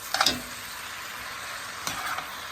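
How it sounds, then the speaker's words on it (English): Cabbage frying in oil in a pan, a steady close sizzle with two brief bursts of stirring and scraping, no voices. "that's really going to help the cabbage to fry down some"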